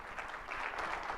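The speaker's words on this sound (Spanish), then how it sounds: "cerramos con un aplauso para los expositores" Audience at a sustainability planning panel applauds the speakers, a brief, fairly faint wash of clapping heard from a distance.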